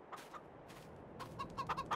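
Chickens cluck in a Farming Simulator 22 dark forest survival farm, a few soft clucks early, then a quicker run of brighter clucks and squawks toward the end, fairly faint over a low steady background.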